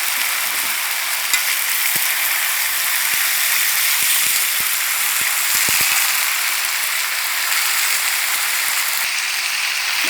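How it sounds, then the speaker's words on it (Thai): Cabbage frying in very hot oil, a dense steady sizzle throughout with occasional sharp clicks of a utensil stirring the pan, no talking. "น้ำมันร้อนแล้วกระลำปีลงเลย"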